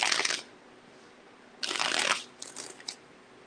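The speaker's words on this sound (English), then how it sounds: "I'm gonna shuffle once more." A deck of tarot cards is shuffled by hand in three short bursts of riffling and flicking, close and crisp, separated by quiet pauses.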